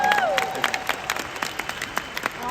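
An audience in a hall breaks into steady applause, many hands clapping at close range after a brief tone at the start.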